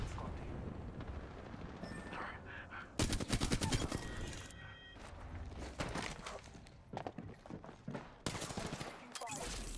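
Enemy gunfire in the Apex Legends shooter, loud automatic bursts and rattling volleys coming in waves over nearly ten seconds, mixed with footsteps, impacts and game effects, with brief voice lines in between.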